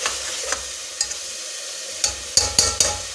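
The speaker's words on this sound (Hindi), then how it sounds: "अब टमाटर डालेंगे। इसके अंदर।" Tomatoes going into a hot pan for dal mash, with short bursts of sizzling and scraping spoon strokes as they are stirred, sparse at first and then quicker clustered clatters near the end.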